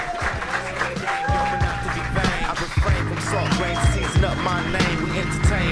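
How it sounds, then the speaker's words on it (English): A room full of people at a pun competition at Violet Crown Clubhouse in Austin, Texas claps steadily, with sharp individual claps standing out and background sounds running underneath. "Start clapping, start clapping, start clapping"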